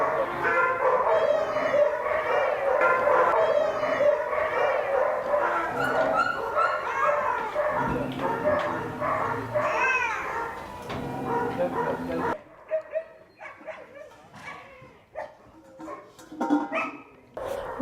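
Several dogs bark, yip and whimper almost continuously at an animal rescue shelter in Qatar, a loud, overlapping chorus that thins into scattered, sharper barks toward the end.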